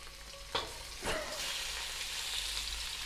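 Pork and onions sizzle steadily in a hot pan for pork chow mein, a continuous hiss broken by two sharp bursts as more food is tipped in, close and without talk.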